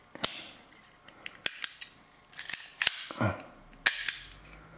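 A Mauser M1914 pistol is handled and its striker dry-fired, giving a series of crisp, close metallic clicks and snaps at irregular intervals.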